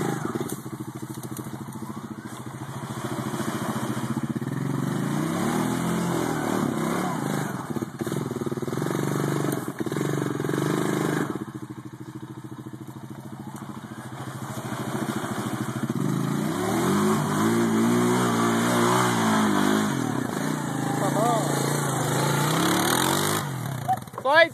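A Honda Rancher 350 ATV labors up a hill, its mid-pitched engine droning steadily and revving in waves for the whole stretch. The engine sits close and loud, with occasional voices mixed in.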